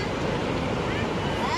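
Sea waves washing onto the beach at Ganpatipule, a continuous low roar of surf with wind buffeting the microphone throughout, close and fairly loud.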